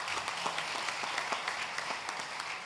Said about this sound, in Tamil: மிகுந்த கரகோஷத்துடன்